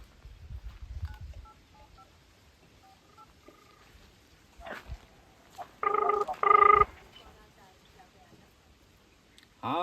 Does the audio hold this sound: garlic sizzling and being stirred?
no